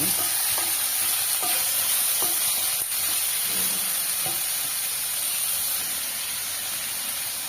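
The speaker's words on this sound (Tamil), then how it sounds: "சேர்த்துட்டு ஒரு தடவை நல்லா கலந்து வச்சுங்க" Slit green chilies stirred into a sizzling pot of rice flour sambar, with a steady frying hiss throughout and a few light scraping stir strokes near the start.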